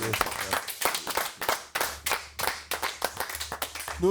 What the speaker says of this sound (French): On peut l'applaudir, Patrick.